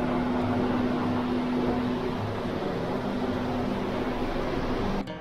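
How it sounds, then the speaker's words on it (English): Sieving machine in a wheat flour factory, a steady loud mechanical drone with a low hum, running continuously and alone before a slight drop at the very end. "Is it like a shaking machine?"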